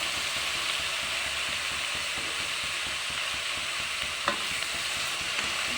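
Chopped carrot, eggplant, potato and onion sizzle in a pan with a continuous dense hiss and faint crackle throughout, plus one brief clink of stirring late on; no talking.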